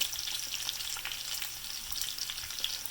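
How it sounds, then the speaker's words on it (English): Steady, dense crackling and popping of bacon frying in a deep pool of hot grease in a pan, close up with no voices. "it's actually sort of French frying the bacon because it's deep, the grease pool"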